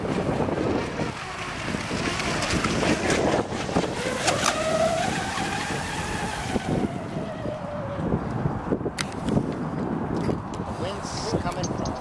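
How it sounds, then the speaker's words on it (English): Wind gusting across an open outdoor spot where a rocket-powered vehicle runs, a steady broadband rush that swells and fades, with a rising engine-like tone passing midway and people talking over it. "Wind's coming from straight for me."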